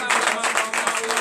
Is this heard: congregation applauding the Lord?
yes